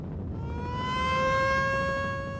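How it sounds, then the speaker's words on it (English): A civil defense siren wails in Letellier during a Red River flood evacuation, its tone climbing and swelling into a sustained, far-carrying howl with no voices. "the sirens wailed in Letellier this morning, signaling the start of the evacuation"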